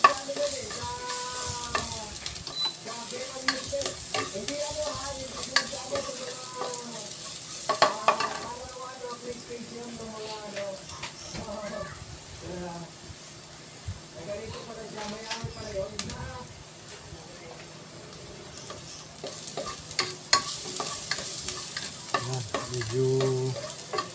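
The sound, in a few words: garlic frying in a pan for biryani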